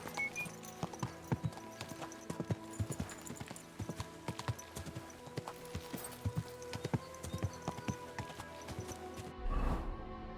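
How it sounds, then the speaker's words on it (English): A horse's hooves clip-clop in Kingdom Come: Deliverance II, an irregular run of hoof strikes over steady game ambience, with a short low thud near the end. "Oh, I do have a horse."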